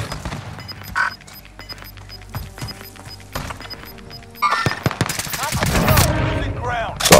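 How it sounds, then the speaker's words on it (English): Gunfire in Call of Duty: Modern Warfare, a scattered run of shots and bursts over game ambience, then a louder, denser stretch of firing and effects near the end, with a player's voice talking in between. "Are you still engaged in a gunfire, bro?"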